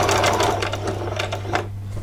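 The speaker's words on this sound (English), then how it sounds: "going to carry on in a straight stitch all the way to the end. I'll just do a back stitch there" Domestic sewing machine running a straight stitch and then a back stitch while sewing lace onto a two-skirt dress, a steady close whirring buzz throughout with slight shifts in rhythm.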